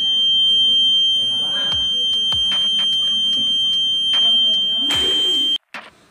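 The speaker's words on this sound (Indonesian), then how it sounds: "mengakibatkan buzzer akan berbunyi atau hidup pada saat lingkungan sekitar terang. Seperti ini bunyinya." A steady, piercing electronic buzzer tone from a light-activated transistor circuit drones for about five and a half seconds, with scattered clicks along the way, then cuts off abruptly.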